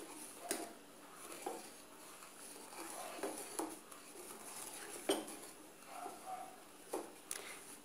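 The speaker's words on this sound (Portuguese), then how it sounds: "continuar mexendo até a nossa mistura estar cozida" A utensil stirs a thickening brigadeirão mixture in a pan, making faint, irregular scraping and clinking knocks against the pan at a close distance, with no talk.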